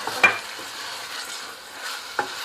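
Spoon stirring zucchini with mixed-in omelette and fresh coriander in a pan, a couple of soft scraping knocks with a gentle sizzle running underneath, no talking.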